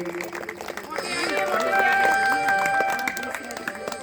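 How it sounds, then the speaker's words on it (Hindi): Loud applause from an audience at a Hindu religious discourse (katha) on Krishna and Sudama, a sustained wash of clapping and crowd noise swelling in the middle, with voices mixed in. "जोरदार ताली उनके लिए"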